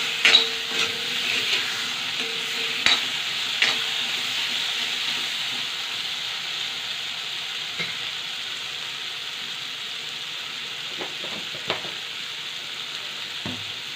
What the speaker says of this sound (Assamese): অকণমান ভাজি ল'লোঁ